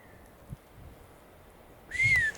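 A single short, high whistle rings out near the end after faint quiet noise, with a softer whistle-like tone briefly at the start.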